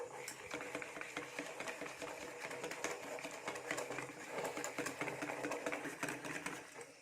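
An electric blender or beater whips gram flour batter for fuluri, a steady whirring drone with rapid rattling clicks against the bowl, continuous and moderately close.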